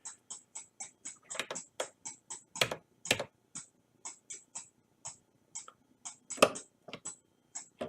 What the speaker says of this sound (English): You could use it as a hi-hat if you wanted to.